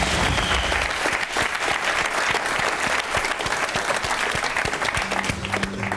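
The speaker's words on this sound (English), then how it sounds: "You don't have to clap if you don't want to." A television game show studio audience bursts into applause, dense sustained clapping from a large crowd filling the room steadily for several seconds.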